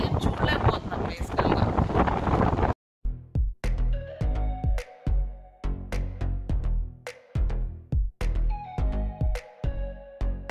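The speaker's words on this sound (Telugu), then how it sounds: "మీరు చూడొచ్చు ఎంత గాలి వస్తుందని." Strong gusting wind in Oia, Santorini, roaring against the microphone in a loud burst, followed by a run of sharp knocks and bumps from inside a bus.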